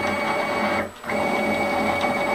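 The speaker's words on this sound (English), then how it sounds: "All right, Nick, I'll run the Z real quick and let's just make sure it runs up and down." A steady mechanical motor whine with a constant hum from a Taig milling machine's Z-axis motor, briefly dipping and then resuming at full level, running close by with no talking.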